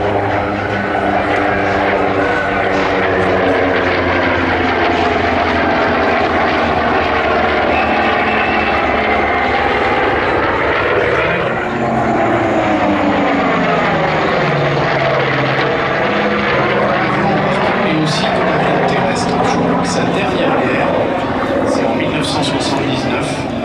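Corsair F4U-5 propeller fighter making a loud pass at an air show, its engine roaring steadily with a pitch sweep as it goes by overhead, under continuous commentary from a male announcer.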